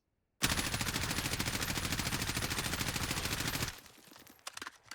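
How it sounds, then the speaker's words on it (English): Sustained automatic fire from an M4A1 rifle in Warzone: a loud, rapid, continuous burst of shots lasting about three seconds, then stopping abruptly into quieter scattered game sounds. "I'm gonna try to shoot with my M4A1 here"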